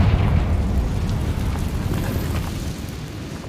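Confringo blasting spell from Hogwarts Legacy, a loud rumbling burst of noise that starts strong and slowly fades, with crackling debris over a deep roar.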